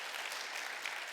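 A church congregation applauds during a Sunday worship service, a short burst of brisk, fairly quiet clapping that fades in and out within about a second.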